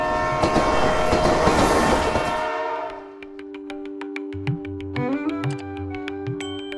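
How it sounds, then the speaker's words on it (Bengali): A small amusement-park train rumbles and clatters loudly, then gives way to a sustained horn-like tone and rhythmic clicks as it runs. "ঝিক ঝিক ঝিক করে ছুটে চলা ট্রেন"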